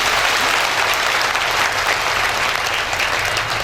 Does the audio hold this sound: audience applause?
yes